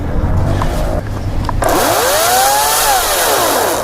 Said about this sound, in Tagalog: Sana kayanin ng chainsaw na di baterya natin.